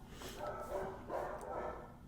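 Dogs frightened by thunder, barking repeatedly in a couple of short bursts, fairly close and loud, with a whimpering edge between barks.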